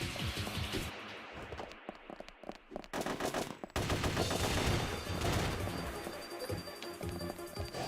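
Automatic weapon firing in the video game Ghost in the Shell Stand Alone Complex, dense rapid bursts of shots with brief gaps early on, then sustained continuous fire layered with game effects.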